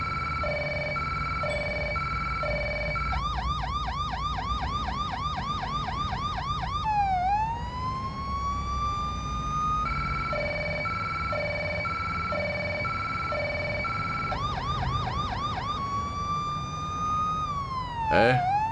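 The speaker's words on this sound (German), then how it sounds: "obwohl ich Sirene eingeschaltet hatte" An electronic police car siren in Police Simulator cycles through wailing and yelping patterns, loud and steady, over a low engine hum, alternating with short beeping tones.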